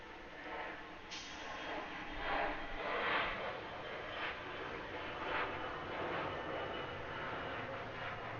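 A United Airlines Airbus A319-100 airliner at Atlanta airport makes a steady, moderately loud jet roar, broad and continuous, with gentle swells as it passes.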